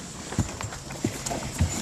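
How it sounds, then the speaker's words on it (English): Horse hooves in a farm herd clop slowly and unevenly over ground, three or four soft thuds nearby against a steady outdoor hiss, with no talk. "this is a horse herd, as you can see"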